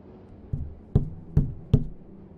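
Four distinct hollow taps knocked from inside an old suitcase in a night-time station hall, spaced evenly and close by, each sharp and fairly loud against a quiet background.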